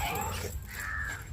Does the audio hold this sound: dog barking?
yes